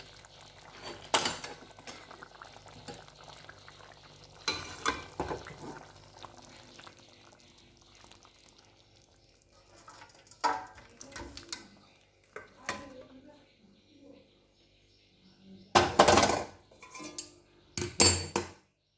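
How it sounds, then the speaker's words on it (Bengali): Prawn malaikari is tipped from a pan onto a plate, with scattered metallic clinks and scrapes of a spoon against cookware, in short clustered bursts separated by quieter stretches. "এবার আমি ঢেলে নেবো থালার মধ্যে"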